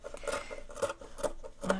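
Dull scissors snip through fabric in a few quick, crisp cuts, close and fairly quiet, spaced about half a second apart.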